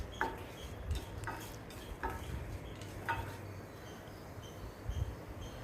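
Dried red chillies and urad dal roasting in a pan, with a faint, continuous sizzle broken by a few soft scraping and stirring knocks at irregular intervals.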